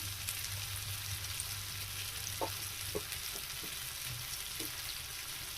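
Smashed potatoes frying with turmeric, salt and spices in a pan make a soft, steady sizzle, with a few faint scraping stirs scattered through it, quiet and close.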